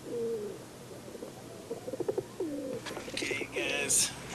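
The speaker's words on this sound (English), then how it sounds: "Photographer Rod Lewis makes his living with the help of a flock of homing pigeons." A flock of homing pigeons in Jackson, Wyoming coos in soft, repeated throaty calls with some chirps and flutters, while a person talks over the birds.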